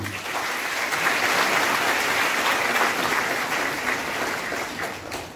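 Students at an education and career seminar in Burnpur give a loud, sustained round of applause, a dense crowd of hands clapping for several seconds before it fades slightly at the end.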